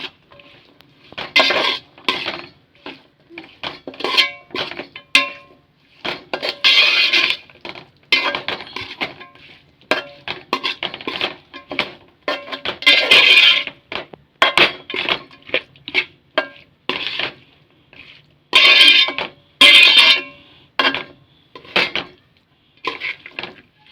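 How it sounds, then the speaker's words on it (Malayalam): Mango pickle is stirred into spice paste in a pan, with repeated scraping and clinking of a utensil against the metal in uneven bursts, close and fairly loud, with no talking. "ജസ്റ്റ് ഇളക്കി കൊടുക്കുക ഇളക്കി ഈ അരപ്പുമായിട്ട് നല്ലോണം മിക്സാക്കി വയ്ക്കുക"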